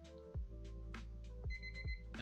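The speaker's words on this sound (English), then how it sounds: "There goes our timer." An alarm chimes from a timer, a few short repeated beeping tones at an even pace, moderately close and alone.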